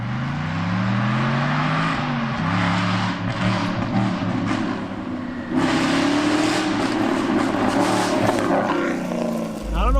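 An Aston Martin engine with a faulty part revs up repeatedly in loud, rising sweeps and rough, raspy roars, heard close and steady throughout, with speech underneath.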